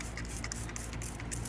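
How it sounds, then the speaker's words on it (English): A spray bottle spritzes apple juice onto smoked baby back ribs coated in dry rub, giving several short hissing bursts in quick irregular succession at close range. "But I did spray it with some apple juice"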